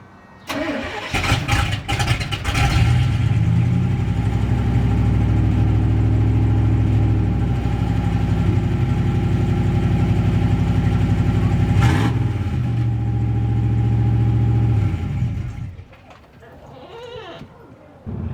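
A GMT400 truck's engine cranks and catches after a fuel pump replacement, then idles loudly and steadily close by for about twelve seconds with a short rev dip before shutting off.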